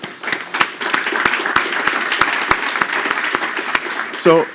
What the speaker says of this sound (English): they also are worthy of a round of applause